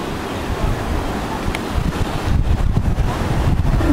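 Wind and Mediterranean Sea waves at a beach along the Cinque Terre coast make a steady blustery rush, with gusts buffeting the microphone and surf washing in the background.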